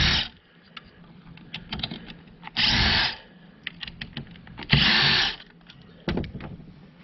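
A power driver backing T20 Torx screws out of a Ford alternator regulator, three separate short whirring bursts, close and fairly loud, separated by quieter clicks and handling noise.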